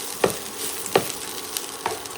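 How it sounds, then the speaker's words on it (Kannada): Chicken pieces frying in a curry leaf tempering in a home kitchen, steady oily sizzle broken by three sharp stirring scrapes of a spatula against the pan, no talking. "ಚಿಕನ್ನ ಒಗ್ಗರಣೆಗೆ ಹಾಕ್ಬಿಡೋದು"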